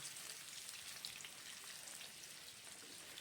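Potatoes for Kashmiri dum aloo shallow-fry in oil over a low flame, a faint, even crackling sizzle that continues steadily without pause.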